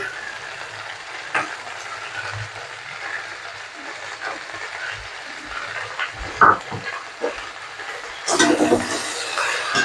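Poppy seed and mustard paste scraped and stirred through a frying pan of drumstick stalks, with a low steady sizzle, scattered soft clinks of the utensil against the pan, and a louder burst of scraping near the end.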